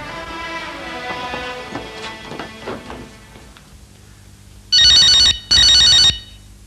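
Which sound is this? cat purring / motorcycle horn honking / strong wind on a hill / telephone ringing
telephone ringing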